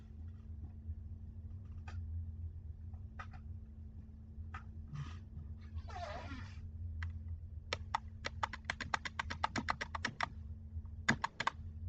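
Keys clacking on a computer keyboard, scattered single presses at first, then a quick run of rapid typing near the end, over a low steady hum in a quiet room.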